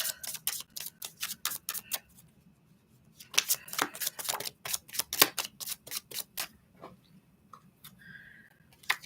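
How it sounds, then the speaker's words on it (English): Tarot cards being riffled and shuffled up close, a rapid run of crisp flutters and snaps in uneven bursts, pausing and resuming as cards are pulled from the deck; no talking. "Let's pull a couple more cards, see where this is going."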